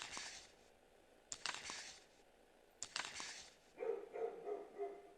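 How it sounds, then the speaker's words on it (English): Neighbors' dogs barking at night in the video game Spirit Hunter: NG: a few faint, distant barks in separate bursts, then a quieter patch of softer yips or whines. "Neighbors' dogs are barking."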